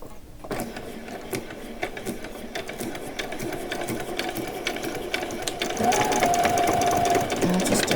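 A sewing machine runs steadily, stitching a small elastic doll's bag with a couple of forward and backward rows; the motor's fast, even whir holds close and continuous, rising slightly louder toward the end.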